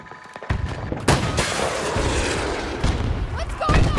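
Gunfire and explosive blasts in a shooter video game, with heavy booms at the start and near the end over a dense, continuous rumble of battle and a faint voice underneath.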